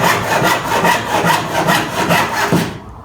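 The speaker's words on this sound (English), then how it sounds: "I can saw a piece of wood without any clamps, without any vices" Hand saw cutting a piece of wood held on a bench hook, close and loud, with steady back-and-forth strokes of about two per second that stop near the end.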